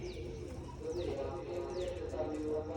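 Pigeons coo continuously nearby, a soft repeated rolling murmur, with a few faint higher chirps above it.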